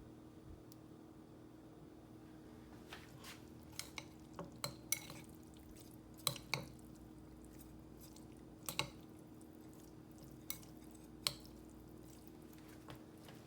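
Vegan soybean paste noodles topped with vegetables being stirred and mixed, soft sticky squishes and scattered utensil clicks against the bowl, sparse and close in a quiet room.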